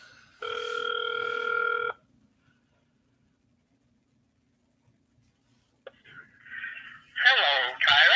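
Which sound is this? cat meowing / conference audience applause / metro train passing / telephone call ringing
telephone call ringing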